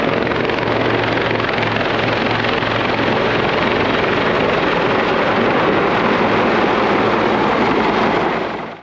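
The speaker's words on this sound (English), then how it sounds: "Anyway, there's a helicopter circling overhead." A helicopter circles overhead during a gravel cycling ride, its loud, dense rotor and engine roar holding steady and close for several seconds before cutting off abruptly.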